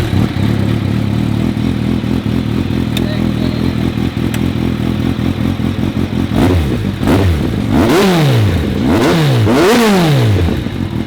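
A superbike engine revs hard at a repair garage, starting as a steady loud idle, then climbing and falling in several quick throttle blips close by.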